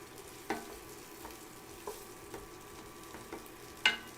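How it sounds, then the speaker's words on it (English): Pad Prik King stir-fried in a pan, with a faint, steady sizzle under scattered soft scrapes and clicks of stirring, one sharper knock near the end. "Alright, so just stirring."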